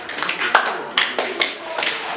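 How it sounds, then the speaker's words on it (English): Students in a mathematics classroom give a brief round of scattered clapping, a few uneven hand claps close by that quickly fade out. "Please clap for it."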